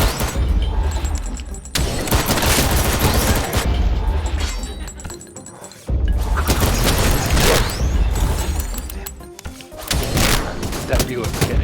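Heavy gunfire from a big gun in the VR shooter Sairento VR, loud and sustained bursts with booming blasts and brief gaps, close and dense, with a voice talking over it.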